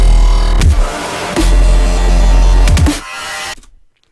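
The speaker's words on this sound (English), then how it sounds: "Then we've got another resampled bass," A distorted, resampled bass from a sample pack, glitched with reversing and time-stretching, thumps in a loud rhythmic pattern of heavy low hits and gritty noise, then cuts off abruptly into silence near the end.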